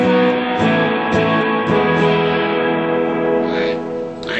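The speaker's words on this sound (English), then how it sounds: "You can hear this huge reverb." Electric guitar chords ring out through a Surfy Bear spring reverb pedal, each strum washing into a long, splashy, boingy tail; loud and close.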